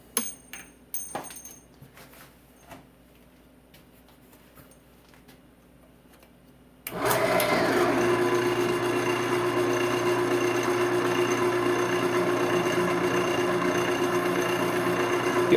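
A drill bores a center hole through a cigar pen kit blank, starting around a quarter inch or 8 mm bit, with a loud steady whirring grind that begins abruptly after several seconds of faint tapping and handling noises.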